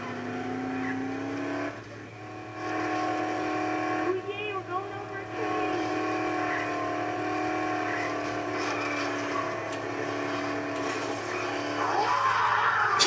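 A car in the zombie video game Dead Island drives with a steady engine drone and repeated tire skids, loud and continuous, with voices occasionally talking over it.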